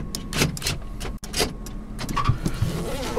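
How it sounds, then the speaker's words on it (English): A car's power windows operate inside the vehicle, with faint motor whirs and soft clicks and thumps spread over a low steady cabin hum, fairly close but quiet. "Power windows, all that stuff works."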